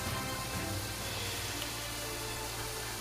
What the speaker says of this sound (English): So we activate the rain.